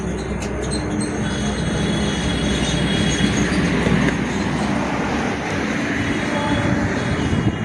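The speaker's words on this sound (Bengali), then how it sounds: "দূরে যে ব্রিজটা দেখছেন ওখান থেকে হয়তো একটা ট্রেন পাস হবে।" A loud train rumbles steadily past close by on a bridge over the Damodar River near Bagnan station, wheels clattering on the track with a high squeal over a heavy low roar.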